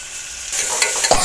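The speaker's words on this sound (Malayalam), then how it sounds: "ഇനി നമുക്ക് തക്കാളി ഇട്ട് കൊടുക്കാം." Chopped tomatoes dropped into hot oil for biryani, with the quiet pan bursting into a loud, close, hissing sizzle halfway through that keeps crackling to the end.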